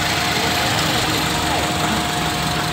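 A car engine idles smoothly right after being started, a close, steady, even hum that holds without change for the whole short stretch.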